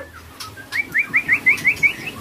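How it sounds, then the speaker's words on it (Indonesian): A murai (magpie-robin) songbird at a bird seller's sings nearby, a loud run of about eight quick, evenly spaced whistled chirps following a few softer scattered notes. "Asli burung gacor ini."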